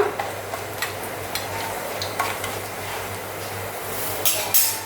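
Whole spices and cumin frying in oil in a pan are stirred with a utensil, giving a soft steady sizzle broken by light scraping and clinking strokes, fairly quiet and close.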